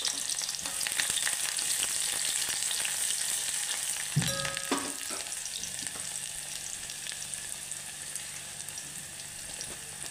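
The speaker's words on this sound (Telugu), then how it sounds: "ఆయిల్ హీట్ అయ్యాక అందులో ఉల్లిపాయ ముక్కలు, ఎండుమిర్చి, వెల్లుల్లిపాయ రమ్మలు అన్నీ వేసుకొని చక్కగా పోపు పెట్టుకోవాలి" Onion pieces, dried red chillies and garlic cloves sizzle steadily in hot oil, a close, continuous frying hiss that briefly shifts partway through, then settles again.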